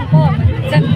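Festival throng at Panchmukhi Mahadev temple on Mahashivratri: a brief, continuous wash of mingled voices and chatter, fairly loud and close.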